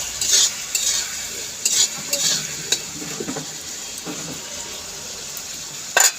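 Melted mango stirred in a hot pan, a few sharp scraping strokes over a steady bright sizzle, close and moderately loud, with no talking.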